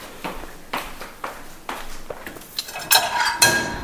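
A plate is lifted from a stack of dishes with a series of sharp ceramic clinks and clatters. The knocks come at a rhythm of about one per half second and build to louder rattles at the end.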